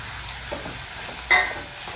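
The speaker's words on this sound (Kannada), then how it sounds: "1-2 ಹಸಿಮೆಣಸಿನ್ಕಾಯಿ, ಒಣಮೆಣಸಿನ್ಕಾಯಿ ಒಗ್ಗರಣೆ ಹಾಕ್ತೀನಿ" Curry leaves, green chillies and dried red chillies hitting hot oil for a tempering, a low steady sizzle with a sharp burst of spitting crackle midway, close and with no talking.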